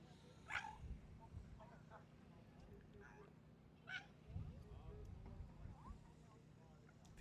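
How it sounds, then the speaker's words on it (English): A dog squeals in the background from the back of a truck at a cruise port during a ship sail-away, with short, high, faint cries rising over steady low rumble and crowd noise. "that's not a seagull, that's a dog."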